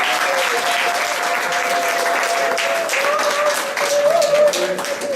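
Wedding guests applauding a couple just declared married at a town hall ceremony, continuous dense clapping throughout with voices and a few cheers mixed in.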